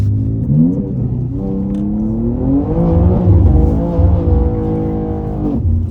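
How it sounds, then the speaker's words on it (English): A BMW M2 with an automatic gearbox drifts, its loud engine note climbing, dipping through quick upshifts and pulling again while the car slides, with a faint hint of tire scrub. "you can shift up while drifting, which I like a lot"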